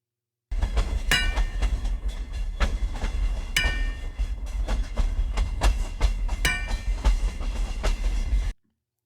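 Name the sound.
train on railroad tracks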